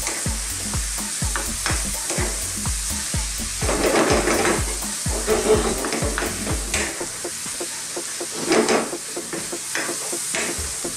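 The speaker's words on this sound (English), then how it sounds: "Stir this around and get all of those powders over and around our meat and onions" Spoon stirring coriander, chili powder, cumin and turmeric into beef and onions in a pan for a curry, with a steady rhythmic scraping and loud sizzling throughout, no talking.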